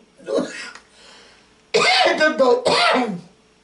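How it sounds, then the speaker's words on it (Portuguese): A hoarse-voiced woman gives a short cough, then a longer, raspy throat clearing in several rough bursts, loud and close with no other sound. "Perdoe que eu estou ainda com um pouco de tosse e rouca."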